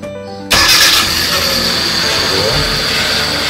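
A Kia Cerato engine turns over and fires up abruptly, settling into a loud, steady idle with a whining hiss, heard close up; the car has an automatic transmission fault.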